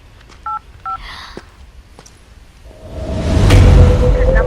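A phone number is keyed in on a mobile as a few short dual-tone beeps, followed by a rising whoosh and a sustained ringing tone that builds into a louder wash at the end.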